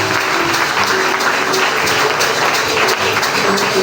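A church congregation applauds and cheers loudly and steadily throughout, a dense wall of clapping with voices mixed in.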